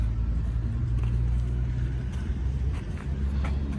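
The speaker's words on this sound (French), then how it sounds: "il est midi et les voitures commencent un petit peu à partir" Classic cars idle and rumble as they begin leaving a vintage car show in Vincennes at midday, a steady low engine drone with occasional passing vehicles nearby.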